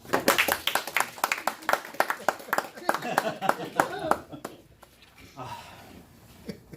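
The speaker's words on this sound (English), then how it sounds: "Could I have some applause?" Club members at a Toastmasters meeting clap in a short burst of applause, close and lively, that thins out after about four seconds and leaves quieter room sound.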